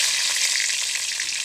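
Bay leaf dropped into hot oil for a Bengali chicken curry sizzles in a steady, loud, close frying hiss, with a faint stirring texture and no voices.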